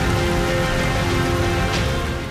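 Heavy monsoon downpour over Lahore, Pakistan, a dense steady roar of rain striking surfaces with a constant loud wash throughout and no talk.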